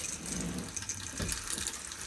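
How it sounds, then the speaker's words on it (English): A hot and cold tap in a Europa 390 motorhome vanity unit runs steadily, giving a close, continuous splashing gush into the basin with no talking. "The vanity unit, you've just got a hot and cold, as you can see,"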